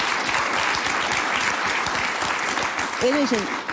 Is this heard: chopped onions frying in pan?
no